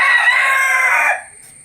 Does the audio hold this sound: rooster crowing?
yes